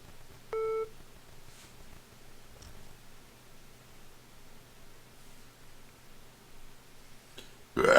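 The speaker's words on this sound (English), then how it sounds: "The call will start at the beep." A phone call beep tone from a support line, a short steady beep with stacked harmonics near the start, then a low constant hum of line noise and faint rustling.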